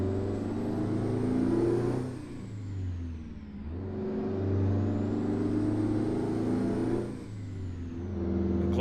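A heavy truck engine in American Truck Simulator revving up through the gears, with rising whine and drone that drop back at each shift change before building again, steady and close.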